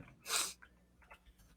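One short, close sneeze bursts out sharply, followed by a few soft breaths and small mouth sounds in a quiet room.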